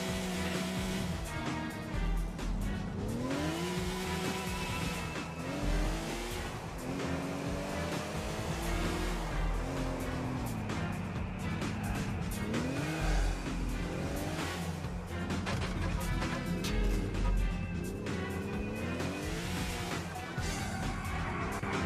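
A car in GTA IV tearing across the docks and beach off-road, engine revving and whining up and down in repeated pitch sweeps as it slides through handbrake turns, loud and continuous with no talking.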